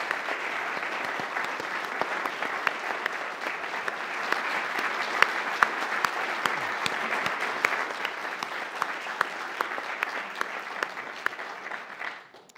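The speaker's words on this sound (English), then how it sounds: "Can we please have one more round of applause?" Sustained applause from a large audience at a talk on civil rights, steady dense clapping that holds for several seconds and then cuts off at the end.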